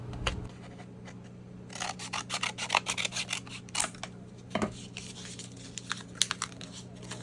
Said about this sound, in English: I'm just going to cut off some of the paper.